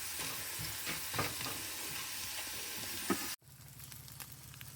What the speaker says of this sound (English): Then I will scramble me an egg and throw the sausage in too.